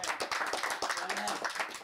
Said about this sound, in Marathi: तुम्ही तिकडे बसून टाळ्या मारताय.